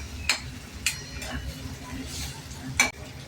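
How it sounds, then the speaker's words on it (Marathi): Tomatoes go into a frying pan for a home-cooked chavli dal amti and get stirred, with several sharp spoon scrapes against the pan over a low, steady background. "आता टोमॅटो घालणार आहोत"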